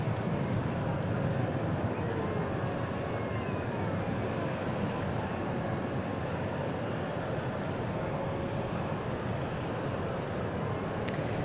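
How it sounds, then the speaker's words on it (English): An American Airlines Boeing 737-800 departs Dallas/Fort Worth International Airport, a steady, broad engine roar holding at a moderate, somewhat distant level throughout without fading. "Next departure, American 2709 is 737-800 Palm Springs"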